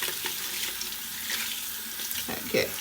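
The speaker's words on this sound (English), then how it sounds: "So wash the towel very quickly." A towel is rinsed under a running tap in a sink, water splashing and gurgling steadily at moderate volume with a few louder sloshes near the end.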